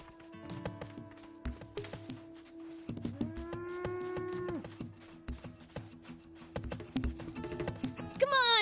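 A cow mooing in the video game Sand Land, a long low bellow over game music and sound effects, fairly loud in the mix.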